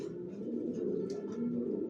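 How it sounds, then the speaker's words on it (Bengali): Johnson racing pigeons in a loft give soft, low cooing that rolls on steadily and close by, with faint rustles and a brief higher chirp midway, no talk. "আমার লফটে সব একই লাইনের কবুতর পালি, আমি জনসনের লংয়ের কবুতর পালি"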